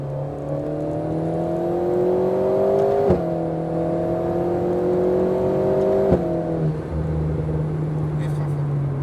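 An Alpine A110S sports car accelerates hard on a race circuit, its engine note climbing steadily in two long pulls broken by quick gear changes, loud and close from inside the cabin.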